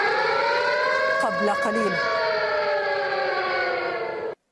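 Air raid siren wailing in Tel Aviv during rocket fire from Gaza, a loud sustained rising-and-falling tone with steady harmonics filling the scene, while a voice speaks briefly over it before a sudden cut near the end.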